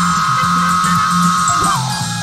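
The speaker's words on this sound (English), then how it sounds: "don't say insect, be specific. Say Magicicada septendisum." Periodical cicada, Magicicada septendecim, produces a loud, steady, continuous droning whine that lasts almost the whole time, then drops in pitch and fades at the end.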